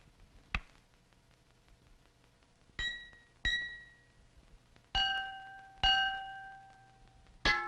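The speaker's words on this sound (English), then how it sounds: "The larger glass objects have a deeper voice because they vibrate more slowly when hit, but they still sound like glass." Glass objects of various sizes struck as percussion, six separate bright ringing hits spaced irregularly, each with a clear pitched tone that decays slowly, some lower and deeper than others, heard alone in a quiet room.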